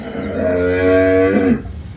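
A single long, deep moo from a dairy cow, loud and close, holding a steady lowing tone for over a second before breaking off.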